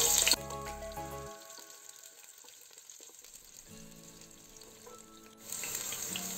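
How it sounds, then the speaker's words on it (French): Chopped onions poured into hot oil for a Cameroonian peanut sauce with fried chicken, crackling and sizzling steadily at close range, loud at first, dipping briefly, then surging again as more goes in; no talking. "je vais commencer par verser les oignons que j'ai préalablement"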